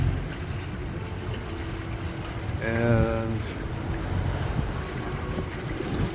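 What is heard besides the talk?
Beneteau sailboat sailing on the Gulf, waves and wind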